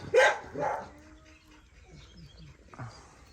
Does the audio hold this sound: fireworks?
no